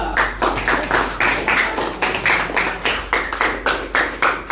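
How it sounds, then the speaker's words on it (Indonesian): A small group in a classroom claps steadily in an even rhythm for several seconds, a modest round of applause. "tepuk tangan untuk kelompok 2"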